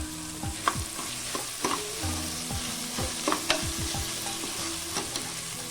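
Onion and green chili sauté in a hot pan for a homemade parotta salna, a steady sizzle broken by repeated clinks and scrapes of a stirring spoon, close and continuous with no voices.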